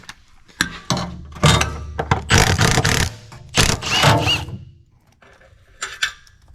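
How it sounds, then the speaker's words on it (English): Two 14mm bolts come out of a car's carrier bearing mount in loud, close bursts of ratcheting and metallic clunks, separated by short quiet gaps. "pull out the two 14mm bolts"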